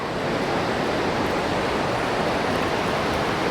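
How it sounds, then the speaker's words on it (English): A waterfall pours through limestone at Malham Cove or Gordale Scar in the Yorkshire Dales, a loud, steady, close rushing hiss of water that fills the space without a break. "Oh, there's another waterfall."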